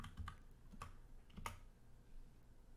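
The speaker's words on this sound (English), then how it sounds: "I'll need to type in my encryption password." A few quiet computer keyboard keystrokes as a password is entered, three or four soft clicks spaced apart over a low room hiss.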